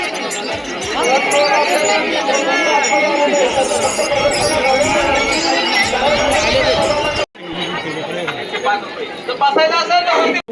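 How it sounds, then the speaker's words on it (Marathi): A dense crowd of pilgrims walking in a dindi procession fills the air with loud, continuous overlapping chatter and babble, close around, with voices talking nearby and a brief break near the end. "हे बघू शकता गर्दी गर्दी गर्दी"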